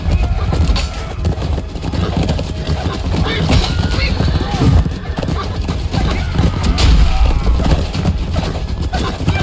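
A galloping horse in a mounted fight, its hooves clip-clopping in a fast, continuous rhythm close by, with a neigh and shouting voices over the pounding.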